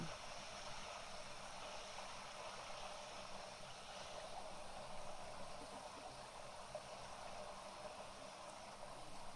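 Steady, continuous rush of flowing water from the Paper Mario: The Origami King video game, a broadband wash that stays even and moderately loud throughout with no talk over it.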